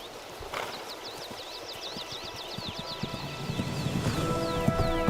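Horses among wild herds on the grassy Tian Shan slopes, with soft hoof clops and rustling movement close by, a high whinny running through the opening seconds and a deeper neigh near the end.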